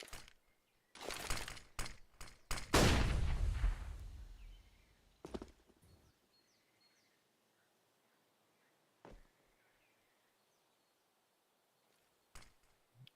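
AK rifle fire in a Counter-Strike match: a quick cluster of loud, sharp shots rolls into a heavy booming burst, then fades to near silence broken by a few isolated clicks.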